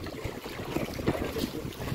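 Wind buffets the microphone over the rumble and slap of strong waves around a boat at sea in the Bicol region, a continuous churning noise with no clear talk.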